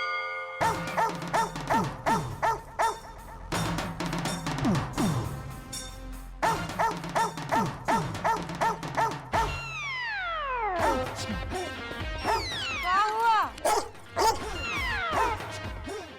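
A dog barks repeatedly in a comedy sitcom scene, sharp yips and bow-wows in bursts across the clip, mixed with background music and brief speech.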